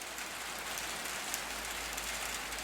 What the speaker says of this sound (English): The volume of rain is picking up.